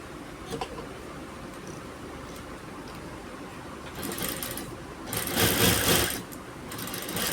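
A sewing machine stitches the 8-inch front neckline of a kurti, a low steady mechanical whir with faint ticks that surges into a louder, faster burst of stitching near the end before easing off.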